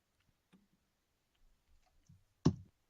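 Mouth clicks from an audiobook narration recording: sparse, faint little clicks and smacks in near silence, ending with one sharper, louder click.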